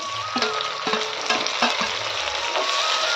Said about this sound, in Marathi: यात टाकूया आपण चिरलेले टोमॅटो